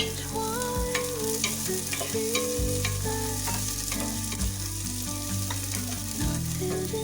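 Onion frying in a pan, a steady sizzle with stirring clatter, set against a loud tonal background of music running throughout.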